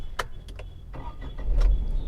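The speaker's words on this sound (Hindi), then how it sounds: "तो दोस्तों, सबसे पहले तो हम गाड़ी स्टार्ट कर लेते हैं" A car engine starts, with a few short cranking bursts of clicks and whirs before the engine catches and settles into a low, louder idle near the end.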